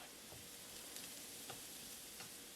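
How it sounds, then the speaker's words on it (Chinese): Minced garlic sizzles and crackles steadily in olive oil in a pan over medium heat, a constant close frying hiss with faint stirring and no voices. "先放入蒜末，稍微的煸炒"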